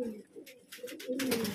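Pigeons perched after a flight, including a large 'charcha' breed and an old fourteen-year-old bird, give low, soft cooing that recurs through the moment, with some faint rustling above it.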